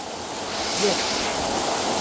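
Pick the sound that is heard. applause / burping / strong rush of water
strong rush of water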